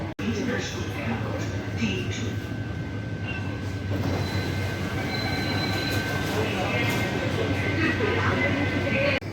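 A Mumbai Airport metro train runs with a steady, loud rumble and a constant high electric whine throughout, with faint wheel squeal and background voices.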